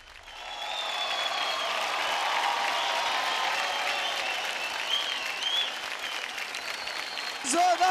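A studio audience at a televised dance competition breaks into loud, sustained applause that swells and holds, then thins slightly before a brief flurry at the end.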